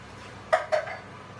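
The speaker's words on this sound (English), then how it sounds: "Stir those in." A spoon knocks twice against a casserole pot while tomatoes are stirred into chicken, two quick clanks close up over a quiet room.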